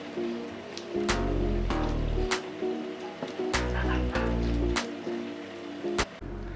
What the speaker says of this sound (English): now we're going to take about 1 cup or so of boiling water, and we'll just dump that in